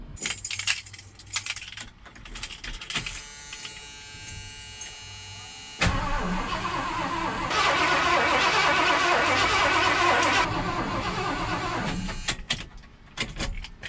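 A 1978 Ford F100 V8 engine that sat parked for years cranks over on the starter with a steady, loud whirring churn lasting several seconds after jangling keys and clicks.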